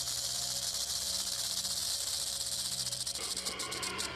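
A rattlesnake's tail rattle makes a continuous, dense buzzing hiss that stays loud and steady throughout and breaks into faster pulses near the end.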